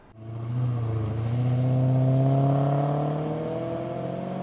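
A fifth-generation Maserati Quattroporte accelerating up a road on a North Carolina afternoon, engine note rising smoothly in pitch as it pulls through the revs, heard from inside, steady and strong without talk.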